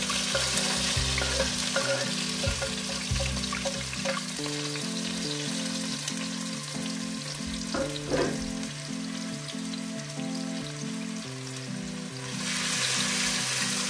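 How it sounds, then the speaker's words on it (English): Tomatoes, green, yellow and orange peppers and onions sauté in a pan for Jamaican brown stew fish, giving a loud, continuous sizzle with scattered stirring scrapes and a steady tonal hum running beneath. "we're gonna saute our tomatoes, green pepper, yellow pepper, and orange pepper, and some onions."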